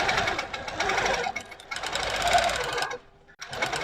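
Longarm quilting machine stitching with a ruler, a dense rapid needle buzz that runs, briefly stops, and resumes, close and loud.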